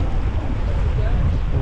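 Sea waves and wind at Dhanushkodi beach, where two seas meet, a constant close roar of surf with gusty wind buffeting the microphone.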